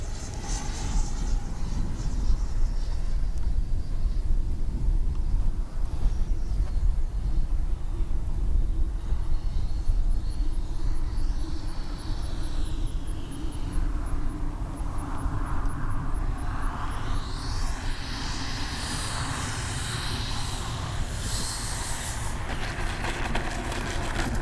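An Arrows RC F-15 64mm twin electric ducted fan jet model coming in to land without flaps, a steady loud whooshing fan roar at a distance that rises in pitch and brightness near the end.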